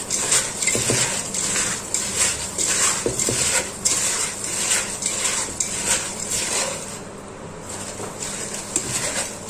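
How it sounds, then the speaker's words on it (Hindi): Raw mango pieces are tossed by hand with pickle spices in a vessel, producing busy, close rattling and clattering with soft patter in uneven rhythm, fading slightly toward the end, with no speech. "मसाले को बहुत ही अच्छे तरीके से मिलाना है अंबियों में और हाथों की सहायता से ही हम इसे अच्छे तरीके से मिला सकते हैं।"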